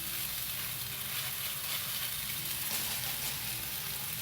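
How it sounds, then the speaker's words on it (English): Portions of ground meat mixture sizzle steadily on a hot stainless steel pan, a close, even, hissing fry with no talking. "scooping up a handful of the meat mixture, just kind of tossing it back and forth, and dropping it down on the pan"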